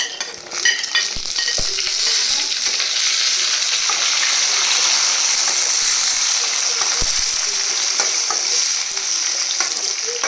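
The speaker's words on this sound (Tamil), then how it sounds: "இப்போ சின்ன வெங்காயம் ஆட் பண்ணிக்கலாம்." Small onions (shallots) and dried chilies sauté in hot oil in a homestay kitchen in Kodaikanal, making a loud, steady hiss with occasional clattering stirs nearby.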